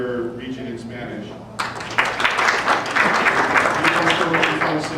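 A round of applause from an audience at a talk about Spanish-language Yellow Pages breaks out after a voice, building into dense, steady clapping that continues to the end.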